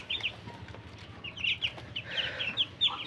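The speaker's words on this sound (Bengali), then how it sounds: "এখন আমার চীনা হাঁসের বাচ্চাগুলো দেখেন" Muscovy ducklings calling in short, high peeping bursts, several close together in a quick irregular series, fairly near over a low rumbling background, with no talk.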